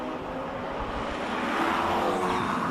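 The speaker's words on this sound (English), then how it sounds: "don't say a word, just listen to the car" A March 77B classic race car passes at a hillclimb event, its engine a steady, fairly distant roar that swells slightly toward the end, heard alone without talk.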